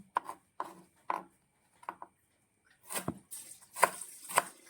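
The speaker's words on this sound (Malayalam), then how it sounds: "അപ്പൊ നമുക്ക് പടവലങ്ങ ഒന്ന് ചെറുതായിട്ടൊന്ന് അരിഞ്ഞെടുക്കാം" Knife chopping snake gourd finely on a board: crisp separate strokes, four spaced cuts then a quicker cluster of sharper chops, close and fairly quiet with no talking.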